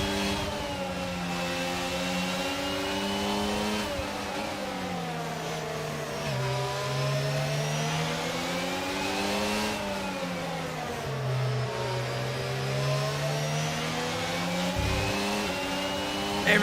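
Several racing cars lap the Zandvoort circuit in a sim racing game during a crowded first lap, engines droning steadily with rising and falling revs as the pack jostles, loud and continuous throughout.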